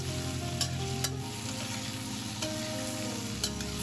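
Bell pepper and potato slices stir-fry in a wok with a constant close sizzle, broken by occasional spatula scrapes and clinks.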